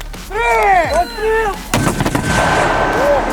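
An 82 mm mortar fires with a heavy boom, followed by a rushing blast and rumble, after shouted Ukrainian fire commands during a military training exercise.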